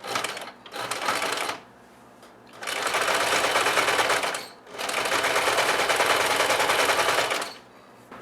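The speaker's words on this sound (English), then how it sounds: "I'm going to bring this over to my sewing machine, and I'm going to sew 5/8 from the edge" A sewing machine stitches fabric for a quilted knitting project bag, sewing a 5/8 seam. It runs in three bursts of rapid, close-up whirring separated by brief pauses.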